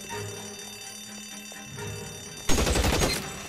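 Burst of rapid gunfire from a shootout in the L.A. Noire video game, a loud dense volley erupting after a quieter stretch of game ambience and ending abruptly.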